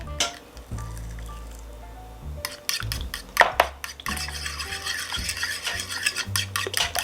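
Eggs and eggnog are beaten together in a bowl, with close rhythmic whisking and clinking of utensil against the bowl, starting hesitantly and then settling into quick continuous strokes.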